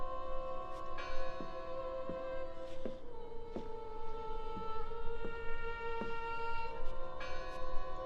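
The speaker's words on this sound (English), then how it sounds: "I heard the bell." A bell rings inside a video game set in Norway, its slow, resonant strokes sounding at steady intervals under a sustained, droning ambient tone, with no talk.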